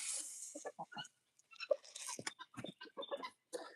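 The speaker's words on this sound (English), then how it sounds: "The chickens stay pretty close to home." Chickens cluck on a farm in a run of short, irregular clucks and scratchy sounds at close range, with no talk over them.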